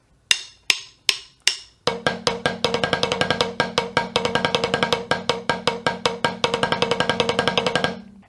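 A drum exercise played close and alone, first four separate sharp strikes, then a steady, fast stream of eighth notes alternating with bounced double strokes that rolls on for several seconds before stopping.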